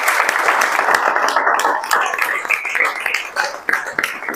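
Audience applause and clapping at a results celebration honouring JEE Main 2024 toppers, a steady dense patter of many hands that stays fairly constant throughout, with no speech over it.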